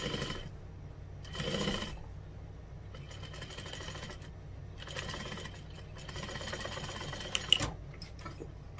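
A sewing machine top stitches fabric for a fold-over clutch in short bursts of quiet, rapid mechanical whirring, with brief pauses between runs and a soft click near the end.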